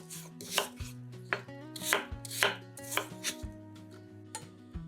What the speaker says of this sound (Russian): Очищенные яблоки нарезаем кубиками.